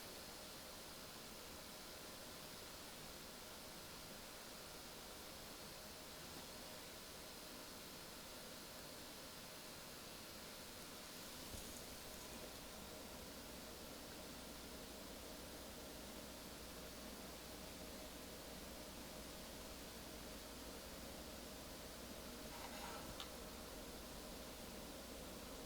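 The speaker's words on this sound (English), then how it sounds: "now what I'll do is crank the fan speed all the way up, and we'll see what difference there is with that. This is just the cased fans by themselves." Case fans of a be quiet! Silent Base 802 PC case running at full speed, a steady broadband airy whoosh that stays constant and fairly faint throughout, with no voices.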